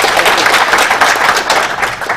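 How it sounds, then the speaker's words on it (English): Audience applause for a university dean at a Chuka University humanities and social sciences faculty event: dense, steady clapping from a large crowd, loud and continuous from start to finish. "Let's clap for him."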